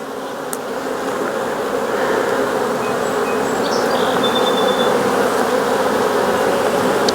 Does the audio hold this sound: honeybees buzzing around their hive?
yes